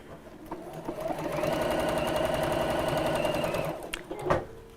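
Electric sewing machine stitching a small folded hem on fabric for a gift bag, a steady close mechanical whir with rapid needle rhythm that spins up, runs for a few seconds, then stops with a clunk.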